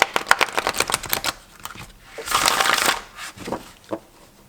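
Stiff, sturdy Thoth tarot cards riffle-shuffled up close: a rapid burst of crisp flicks, then a denser zipping cascade as the halves interleave, ending with a few soft taps as the deck is squared.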